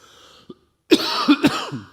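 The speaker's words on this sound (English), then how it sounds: "I'm going to have to cough into the microphone" A person coughs loudly and close up, a rough burst followed by two more sharp coughs and a throaty trailing clear, after a short faint sound.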